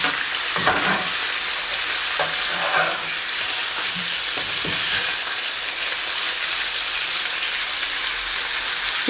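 Meat pieces for Afghani Qabuli palao fry in a pan with a loud, continuous crackling sizzle, broken by occasional scraping stirs close at hand.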